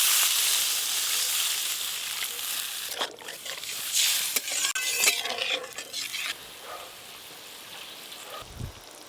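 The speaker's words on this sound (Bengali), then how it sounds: "এবার জল দিয়ে দেব।" Spiced gravy for a fish curry with pineapple and tomatoes sizzles in a pan, then water is poured in with a rushing splash, followed by softer bubbling and stirring.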